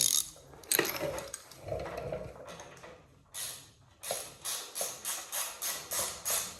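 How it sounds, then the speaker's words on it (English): A bolt is tightened down with a ratchet on a Yamaha Blaster ATV during a rebuild: a few clanks and shuffles of handling, then a close, regular series of about eight rhythmic ratcheting clicks. "Tighten it down"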